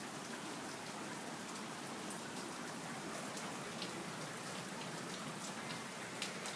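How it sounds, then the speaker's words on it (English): Steady rain falling during a thunderstorm, a dense, even hiss of drops on surfaces that continues without a break at moderate volume, with no voices present. "You can hear the rain."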